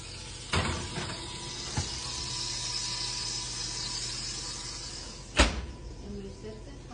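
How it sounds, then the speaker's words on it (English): A pork roast goes into an oven, with a clatter at the start and a sharp, loud thud of the oven door shutting near the end, over a faint steady hum. "now into the oven."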